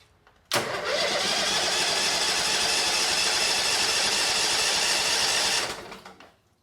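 A 2006 Mud Buddy HD Mini surface drive boat engine being cranked, a loud, steady whirring churn that starts abruptly and runs about five seconds alone before tapering off.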